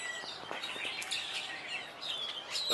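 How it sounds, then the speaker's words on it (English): Small birds chirp and tweet in scattered bursts along a riverside near London Bridge at Lake Havasu, faint and somewhat distant over steady outdoor ambience. "if you listen real carefully, you can hear the birds"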